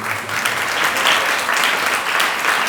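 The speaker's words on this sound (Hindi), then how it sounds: "अब मैं नहीं समझ पाया आपने कौन सी ताली बजाई मेरे लिए" An audience applauds a speaker at a talk, dense, sustained clapping from many hands that holds steady and fairly loud for the whole stretch, with no voices on top.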